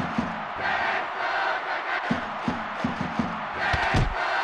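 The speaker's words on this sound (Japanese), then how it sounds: "ブーイングですね。" A crowd boos in the stadium of the football video game Winning Eleven '97 during a Cerezo Osaka versus Avispa Fukuoka match, a loud sustained roar of disapproval with sharp thumps and surges throughout.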